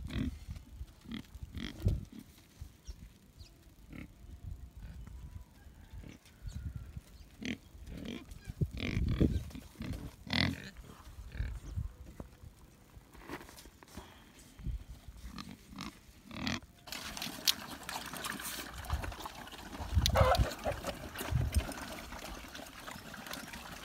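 Pigs on a backyard farm grunt and snuffle in short close bursts, mixed with trickling water and scattered thumps.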